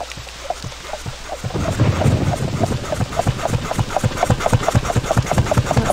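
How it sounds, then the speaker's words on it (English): Machinery pumps inside the realMyst game world, a steady rumbling drone with rapid rhythmic thumps repeating throughout, growing fuller after the first second or so. "Something is pumping."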